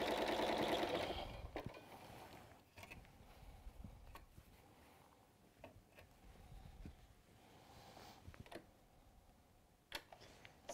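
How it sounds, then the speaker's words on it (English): A sewing machine stitches along a fabric edge on a drawstring piece with a brief, louder whirring run at the start, then fades to faint ticking, clicking and handling sounds close by. "literally just going to stitch along the edge there"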